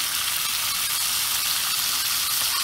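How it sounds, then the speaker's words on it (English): Pieces of carnitas meat sizzle steadily in a skillet on a Watchman stove, a loud, even, bright hiss of frying heard up close with no speech. "And now we're just going to put our pieces of meat in there. And that's exactly what you want to hear."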